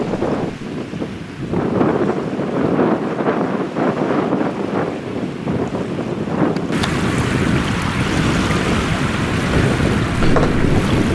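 Wind blows steadily across the beach at Fort Victoria on the Isle of Wight, a loud broadband rush with microphone buffeting and sea wash beneath, growing brighter and hissier partway through, with no speech.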